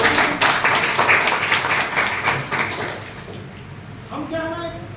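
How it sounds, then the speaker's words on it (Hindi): Audience applause at a transformational innovation training session: dense, steady clapping from a room full of people that thins and fades toward the end. "तालियां तो बनती है।"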